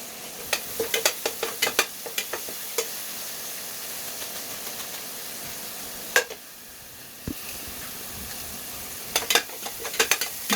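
Shrimp paste (alamang) fries in leftover milkfish oil, a soft continuous sizzle broken by sharp scraping and stirring clicks from a utensil against the pan, with a brief quiet lull midway.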